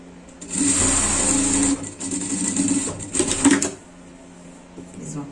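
A sewing machine topstitches a seam on a dog's track jacket, running in two close, loud bursts with a brief pause between them before stopping.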